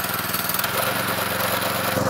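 A go-kart's small engine runs close by after an engine replacement, a loud steady buzzing drone with a rapid pulsing beat that shifts and intensifies partway through.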